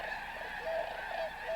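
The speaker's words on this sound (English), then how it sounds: "Vast numbers of snow and Ross's geese winter in the fields and wetlands of the refuge." Snow and Ross's geese honk continuously in a dense wintering flock across refuge fields and wetlands, a steady distant chorus with a few sharper nearby calls rising above it.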